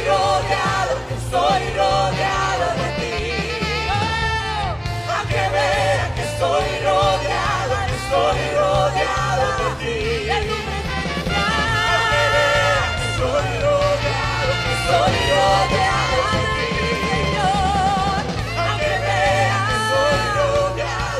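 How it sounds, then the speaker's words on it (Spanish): A congregation at a Sunday worship service yells and whoops in a cry of victory, a loud, dense mass of voices sustained without a break over steady accompanying sound. "Alguien da un grito de victoria."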